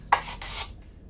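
A card scraper drawn over cured epoxy on wood, giving two quick, close rasping strokes with a sharp scrape at the start.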